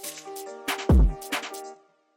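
Single gunshot effect in a drill beat made in FL Studio, landing once as a loud booming hit amid a melodic synth loop, with the shot's velocity turned down so it fades away.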